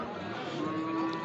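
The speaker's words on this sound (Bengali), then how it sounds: "একটি ষাঁড় গরু অনেক সুন্দর আকৃতির" A bull lets out a low, drawn-out moo over steady background noise, the call holding one tone for about a second.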